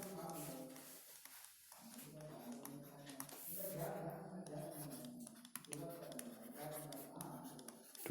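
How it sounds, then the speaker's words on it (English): A pen scratches across paper while graphs are drawn for a math lesson, with quiet continuous scribbling heard under a person's talking. "Okay, so for that draw the graphs."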